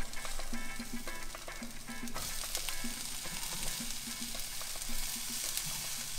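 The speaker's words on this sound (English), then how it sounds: "Our peppers are sliced, we're gonna throw those into the pan." Sliced peppers fry in a skillet for chicken fajitas, a close, loud, steady sizzle with occasional clinks and scrapes of stirring in the pan, and no voices.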